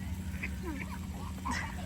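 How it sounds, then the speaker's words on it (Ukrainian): Ducklings at a contact zoo quack in scattered short calls while being fed bread, heard over steady outdoor background noise. "А зараз годуємо хлібчиком каченят."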